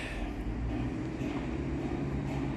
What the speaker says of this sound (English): here comes my train